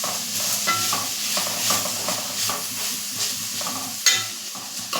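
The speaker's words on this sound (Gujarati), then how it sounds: "બધું બરાબર મિક્સ કરી લેશું" Grated potato and peanut khichdi is stirred and mixed in a hot pan, a spoon scraping in repeated strokes over a constant close sizzle, with a brief sharper clink near the end.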